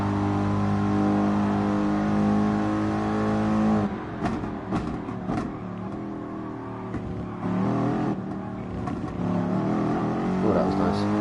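A Gr.3 race car laps Suzuka in GT Sport, its engine droning loud and close, with rising and falling revs through gear changes and a voice speaking at times.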